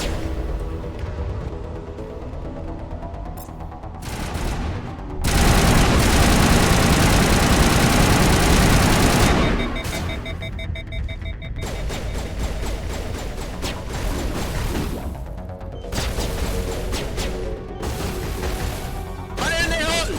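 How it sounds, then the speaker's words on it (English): Rocket launcher blasts in the Mass Effect video game: a loud, sustained explosive roar dominates several seconds amid ongoing game noise, with a person talking over parts of it. "Rocket launcher!"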